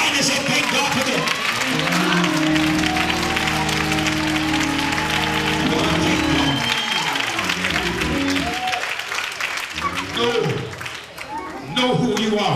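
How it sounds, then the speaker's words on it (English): A church congregation at a citywide youth revival claps and cheers loudly, a sustained wash of applause with sung or shouted voices and music rising over it, thinning briefly near the end. "Clap your hand and say, thank God for them."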